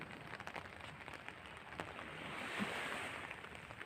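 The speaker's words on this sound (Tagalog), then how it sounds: "sobrang lakas na ng ulan" Steady heavy rain pours down at Repulse Bay Beach, Hong Kong, in a dense, constant wash of noise, faint and distant, with scattered louder patters.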